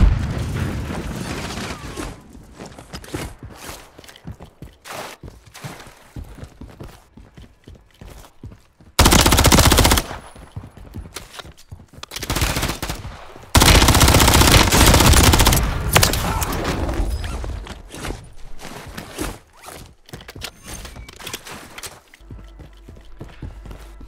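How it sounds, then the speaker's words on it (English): Rapid gunfire in a Warzone battle royale endgame: dense, loud, continuous bursts of shots with several heavier sustained volleys and booming impacts, close and overlapping throughout. "Lots of shooting going on, and we need to get them kills."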